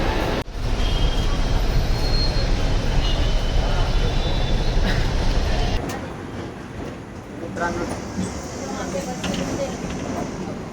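Busy railway station ambience in Thane, with a steady roar of rail and traffic noise, murmuring voices throughout, easing slightly partway through.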